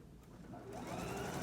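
A sewing machine stitches a straight seam through fabric, a steady motor whir that builds in the second half and runs continuously without pauses.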